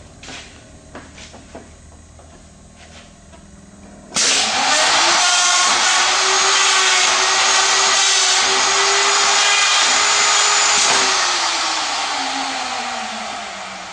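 A power tool router starts abruptly after a quiet stretch and runs at a loud, steady whine while cutting a 1/4 radius with a 1/2 inch wide bit, its pitch shifting slightly under load before winding down near the end.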